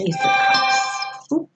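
A mobile phone ringtone plays as a bright, sustained chiming melody for about a second before cutting off, followed by a quick spoken remark.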